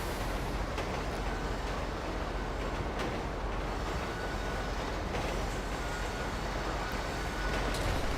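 Train rolling past in the GTA 5 Online video game, a continuous rumbling rush of wheels on rails with faint clatter, moderately loud and steady throughout, no talking.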